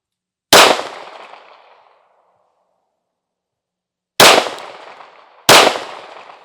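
Springfield Armory Prodigy Comp pistol firing outdoors, three loud sharp shots, the first alone with a long ringing echo tail, then a gap before two more shots in quick succession.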